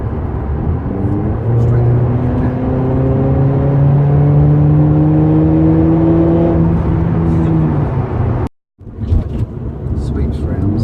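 A 2017 Mercedes-AMG CLA45 with a performance exhaust revs up steadily, its exhaust note climbing in pitch over several seconds before cutting off abruptly, then picking up again, with a voice over it.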